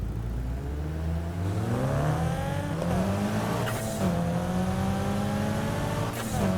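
A Nissan 350Z in the racing game Need for Speed Heat revs up and accelerates, its engine note rising and climbing in pitch through several gear shifts. The sound is steady, loud and close, with occasional tire noise and no talking.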